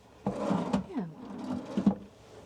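Drawers in a hotel room at Hotel Okura Tokyo Bay are pulled open, giving a few close wooden knocks and a short sliding scrape, with two distinct bumps at the start and the end.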